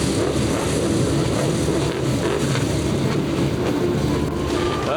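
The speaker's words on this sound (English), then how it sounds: "Gentlemen, start your engines!" Race car engines at Paradise Valley Speedway, Superstock cars revving together before a heat, a dense continuous roar of many engines that stays loud and steady throughout with no pauses or talk.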